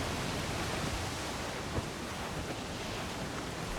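Rough, stormy sea in the pirate video game Assassin's Creed Black Flag: a steady, loud broadband roar of surf and wind washing continuously without pause.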